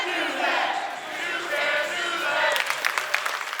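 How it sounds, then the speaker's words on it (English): Crowd at an Oakland team's game chanting together, a dense, sustained roar of many voices with sharper shouts and claps breaking through near the end. "There's a couple chants that we like to do, ranging from cheering for our team to not cheering for the opposing team."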